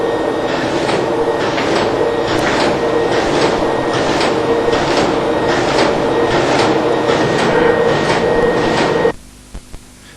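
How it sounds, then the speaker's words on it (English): An FSN numbering machine feeding sheets through makes a loud, steady rhythmic clatter of repeating mechanical strokes that stops abruptly near the end, leaving faint clicks. "This can be seen by running the sheets twice through the machine."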